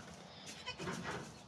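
Two baby goats left alone in their stall bleating, faint cries heard from a short distance with no talk.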